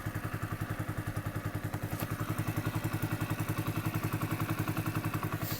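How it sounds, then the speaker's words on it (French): A Kymco KPW 50cc motorcycle engine runs at a steady idle close to the listener, giving off a fast, even, throbbing pulse with light mechanical clatter. "C'est un beau bruit quand même cette moto."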